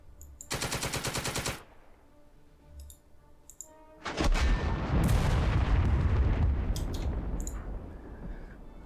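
Tank turret cannon fire in the World War II game Second Front: a sharp burst of rapid clicking fire early on, then a heavy booming blast that rolls into a long, loud rumbling decay.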